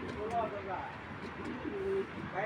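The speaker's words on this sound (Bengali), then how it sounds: "চলুন কবুতর আগে দেখায় আপনাদের" Racing pigeons coo softly in a loft, with a few low, rolling calls that sit close under someone talking over them.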